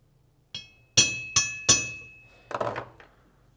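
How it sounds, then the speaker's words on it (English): A centering punch is struck with sharp metallic taps to mark a hole in metal while installing a Kawasaki KLR650 doohickey and torsion spring upgrade, giving one light tap, three louder ringing strikes, then a scraping rattle, close and alone. "And I'm gonna take a centering punch."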